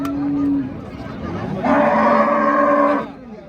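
Cattle at a livestock bazaar moo twice, a short low call followed by a louder, longer moo, both close and clear with little background noise.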